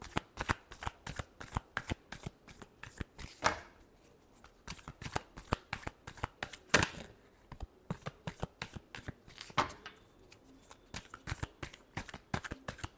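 Tarot cards being shuffled by hand in a quick, steady riffle of crisp flutters and taps, close and fairly quiet, with brief pauses between bursts and no talking.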